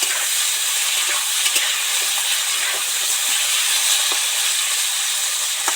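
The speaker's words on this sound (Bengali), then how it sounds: "আলু টমেটো তো ডিপ ফ্রাই করে ভাজা হয়ে গেছে" Potatoes and tomatoes deep-frying in hot oil give a constant, fairly loud hiss, dotted with faint scattered pops and crackles.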